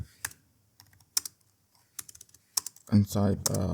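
Keys tapped on a computer keyboard while editing text in Vim, sparse irregular clicks in short bursts close to the mic, with a voice speaking over the last second.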